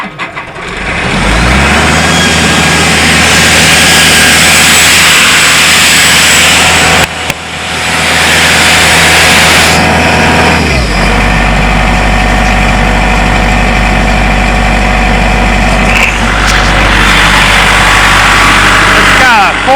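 A 4-cylinder John Deere diesel on a corn harvest machine cranks and catches, then runs at a steady loud idle with a low throb, the tone shifting about two-thirds of the way through.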